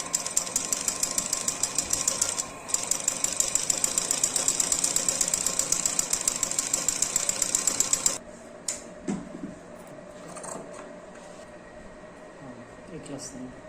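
A sewing machine stitches a designer blouse in a rapid, even chatter of needle strokes that pauses briefly once and then stops. Quieter handling noises and faint voices follow.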